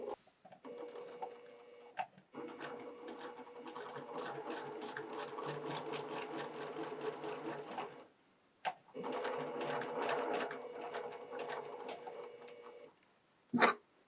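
Close by, a sewing machine stitches a curved patchwork seam in two long, steady rattling runs, with a short pause between them and a brief clunk near the end.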